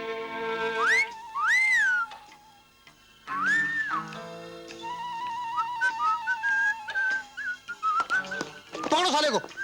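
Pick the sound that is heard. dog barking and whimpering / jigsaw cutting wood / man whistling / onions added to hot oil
man whistling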